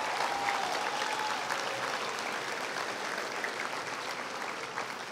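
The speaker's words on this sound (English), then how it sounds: "I think that deserves applause" Sustained audience applause fills a large hall at a community college Associate of Arts graduation ceremony, a steady dense wash of many hands clapping from a big crowd, even in level and continuous throughout.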